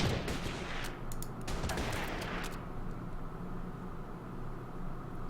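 Tank cannon fire in the wargame Order of Battle: Panzerkrieg sounds as a cluster of sharp, booming shots in the first couple of seconds, followed by a steady rumbling battlefield hiss.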